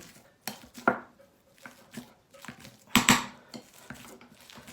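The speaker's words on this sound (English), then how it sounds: "Just put it into the bowl and just mash them" Ripe bananas being mashed in a bowl for banana bread, a close series of irregular clinks and knocks of utensil against bowl, with two sharper hits, and no talking.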